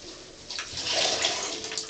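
Water splashes and pours into a bathtub, a short burst of sloshing that swells and fades over about two seconds, close and moderately loud, with no talking.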